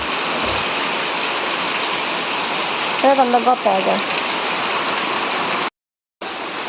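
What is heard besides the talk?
rain falling on surfaces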